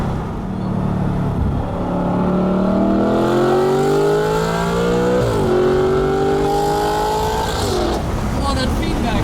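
A 2013 Audi R8 with a naturally aspirated V8 revs hard, its pitch climbing through the gears with brief dips at each shift, loud and close, while people talk over it.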